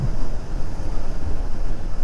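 Steady, loud rush of wind buffeting the microphone while riding a Yamaha motorcycle on an early morning road, a continuous low roar with no pauses and no talking.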